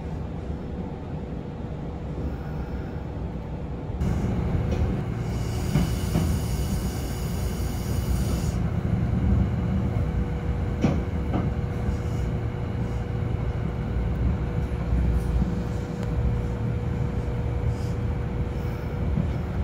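A Kintetsu rapid express bound for Yoshino arrives at a station with a continuous rail rumble, a brief high squeal partway through, and steady wheel noise running on to the end.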